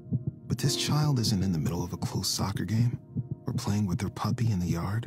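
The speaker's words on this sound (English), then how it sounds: "This is the sound of a racing heart." Racing heartbeat of a young child, a soft rapid throbbing pulse running beneath a person speaking throughout.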